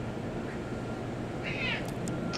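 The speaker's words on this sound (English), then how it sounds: "You can hear the cat in the background," A cat meows once or twice, faintly, in the background at a Vancouver train station, over a steady hum of indoor ambience.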